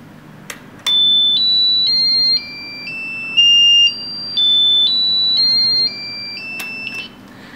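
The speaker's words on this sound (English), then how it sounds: "the buzzer will play the music which has already set in the board" An Arduino-driven electronic buzzer beeps out a simple stepped melody of sustained tones, rising and falling, with a few clicks at the start and end.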